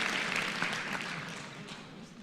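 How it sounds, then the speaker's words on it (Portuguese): Audience applause at a Brazilian motivational talk, a steady crowd clapping that fills the whole stretch at moderate, even loudness without pauses. "Uma salva de palmas para ele."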